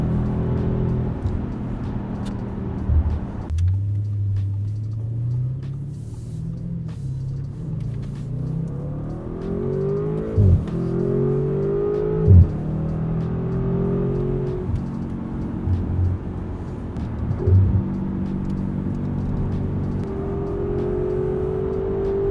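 A 2021 ABT Audi RS6-R, a limited 1-of-125 car with 690 horsepower, drives with a loud, close engine drone that climbs repeatedly through the revs as it accelerates and shifts, with no talking.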